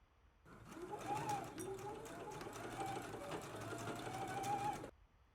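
A sewing machine runs one continuous stitching pass of about four seconds, joining garment facing pieces with a 5/8-inch seam allowance. The whirring is steady and close, and it starts and stops abruptly.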